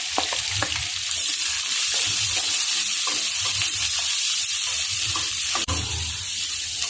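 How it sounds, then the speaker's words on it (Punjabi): Chopped onions fry in a pan of hot oil with cumin and asafoetida, giving a steady close sizzle broken by frequent stirring scrapes and clinks, with no talking. "ਪਿਆਜ਼ਾਂ ਨੂੰ ਆਪਾਂ 5-7 ਮਿੰਟ ਬਣਾਵਾਂਗੇ ਪਿਆਜ਼ਾਂ ਨੂੰ ਆਪਾਂ ਬ੍ਰਾਊਨ ਕਲਰ ਦੇ ਹਲਕੇ ਕਰਾਂਗੇ"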